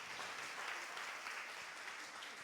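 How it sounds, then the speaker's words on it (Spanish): A church congregation applauds during a sermon, a faint, distant and even wash of clapping that holds steady without any clear individual claps. "Denle un aplauso al Señor"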